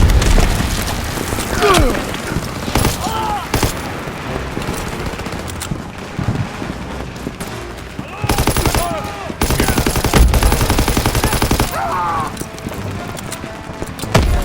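Rapid machine-gun bursts and single shots in a World War II trench battle in Call of Duty: WWII, loud and close, in clustered volleys with short pauses, with shouted orders mixed in.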